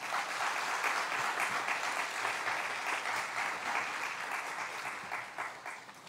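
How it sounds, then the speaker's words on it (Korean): A school audience gives a big round of applause to a visiting guest pastor from Chungjeong Church, a dense, steady wash of clapping that holds for several seconds and eases slightly toward the end. "여러분 먼저 크게 박수 한번 하겠습니다"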